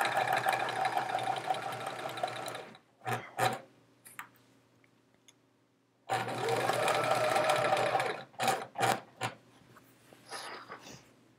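Domestic sewing machine stitching quilt rows together for a Charming Chevrons quilt in a small craft space, running in two sustained bursts with a pause and short stop-start stitches between them, close and steady.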